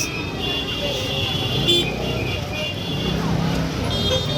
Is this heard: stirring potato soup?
no